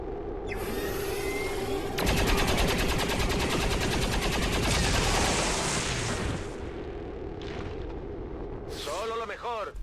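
Overwatch gunfire erupts in XCOM 2 War of the Chosen: loud, dense bursts of rapid automatic shots and blasts that fill most of the stretch, easing into scattered shots, with a short voice near the end.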